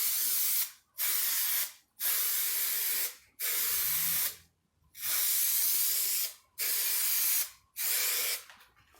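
Spray adhesive hisses onto camper van rear door trim in repeated bursts, seven or eight close, loud sprays about a second each separated by short pauses.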